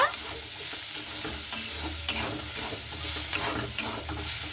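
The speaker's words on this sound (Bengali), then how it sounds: "তো মটরশুঁটিটাকে দিয়েও খুব ভালো মতো করে নাড়াচাড়া করে নেব।" Green peas are stirred in a frying pan with oil, a steady sizzle under repeated scraping strokes of a spoon against the pan.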